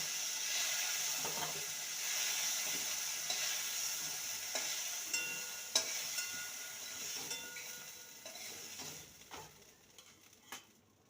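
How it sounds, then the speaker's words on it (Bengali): Vegetables with drumsticks frying in a pan for shukto, a steady sizzling hiss with occasional stirring scrapes and clicks, fading slightly toward the end. "সজনে ডাটা দিয়ে দু মিনিট ভেজে নিয়েছি"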